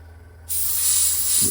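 An airbrush switches on with a sudden steady hiss of air blown over a painted Bandai Perfect Grade Millennium Falcon model, loud and close, running continuously after a quiet start.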